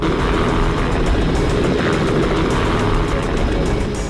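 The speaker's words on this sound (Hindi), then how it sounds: "यकीन नहीं हो रहा वो हेलीकॉप्टर में है" A helicopter taking off, a loud steady engine and rotor roar filling the scene without pause, close and dominant, with no speech over it.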